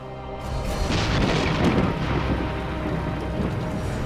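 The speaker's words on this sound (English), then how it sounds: "heavy rain has hit the Fraser Valley" A heavy rain downpour in British Columbia's Fraser Valley, a steady broadband hiss of falling water with deep rumbling underneath, loud and continuous with no voices.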